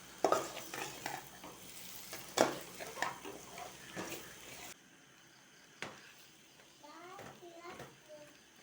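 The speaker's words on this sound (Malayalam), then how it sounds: "നന്നായി എണ്ണ ഇളക്കി കൊടുക്കാം" A spatula stirs and scrapes through chicken masala sizzling in oil in a pan for several seconds, then it goes quieter with children's voices in the background.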